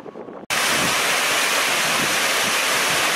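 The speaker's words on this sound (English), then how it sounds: "Also this nice water feature in the middle of this building." Steady, dense splashing of an indoor water fountain fills the space, a continuous close wash with no talk, starting abruptly after a brief quieter moment.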